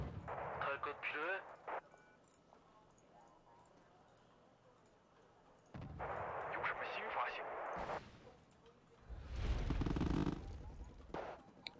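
Heavy artillery fire in the strategy game Wargame: Red Dragon: a few distant booming blasts and rumbling impacts come in separate bursts, with a rising heavier barrage near the end, under a voice.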